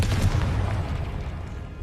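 A Confringo blasting spell explodes in the video game Hogwarts Legacy, a single heavy booming burst with a rumbling tail that slowly fades, loud and close.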